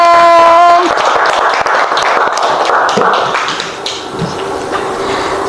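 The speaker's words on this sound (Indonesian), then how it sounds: "Kita beri tepuk tangan untuk kelompok C." Classroom applause for a student group, a few seconds of busy clapping from many hands that fades toward the end after a brief held tone at the start.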